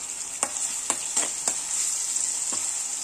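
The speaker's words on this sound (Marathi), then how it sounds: "लसणाची पेस्ट केली होती त्यातला मी 1च चमचा यामध्ये घालते आणि थोडं परतून घेऊया" A spoonful of garlic paste sautés in a pan for an okra stir-fry, giving a steady hiss with a few sharp scraping stirs spaced through it.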